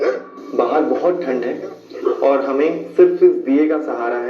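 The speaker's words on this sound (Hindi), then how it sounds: "मंदिर के आसपास रहने वाले कुत्ते अचानक भौंकने लगे" Dogs living around a temple bark outside at night, their barks mixed in beneath near continuous talking from a person close by in the cold.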